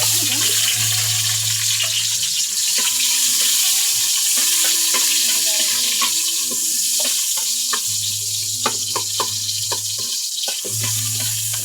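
Onions sauté in a pan in a home kitchen at night, a continuous close sizzle with occasional stirring clicks and scrapes over a low steady hum.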